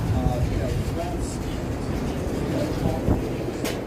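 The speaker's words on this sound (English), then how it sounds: "There's the L train going across there." A Chicago L train rumbles across an elevated track above Dearborn Street, a steady loud low roar of wheels and city traffic with faint voices underneath.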